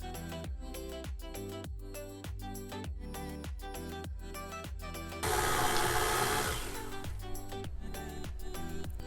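An appliance churns peanut butter cookie dough with a close, rhythmic pulsing whir that turns into a louder, rougher grind midway and then settles back to the beat. Nobody speaks.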